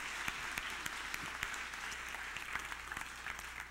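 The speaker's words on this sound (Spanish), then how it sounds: "Un aplauso fuerte a papá." A church congregation claps steadily in applause at a Spanish-language service, a dense, even patter of many hands filling the room at moderate loudness, with no voices over it.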